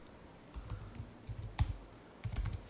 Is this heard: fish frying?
no